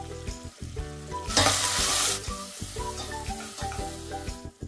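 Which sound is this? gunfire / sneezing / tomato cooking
tomato cooking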